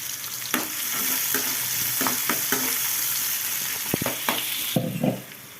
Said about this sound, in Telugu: ఇప్పుడైతే ఆనియన్స్ వేస్తున్నాను వేసుకొని ఒకసారి బాగా కలిపేసుకుందాం